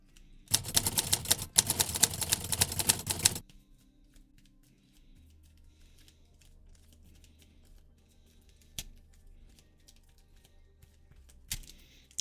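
A deck of board game cards is riffle-shuffled in a loud, dense burst of rapid flutter lasting a few seconds, followed by quiet handling and a couple of soft taps.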